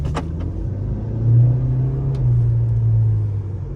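A car driving on the road, heard as a steady low engine and tyre rumble from inside that swells slightly and then holds, with no talking.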